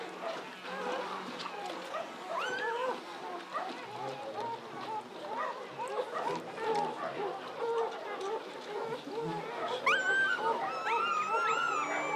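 A greyhound whimpers and whines in high, repeated cries while giving birth, close by, with people talking softly around her.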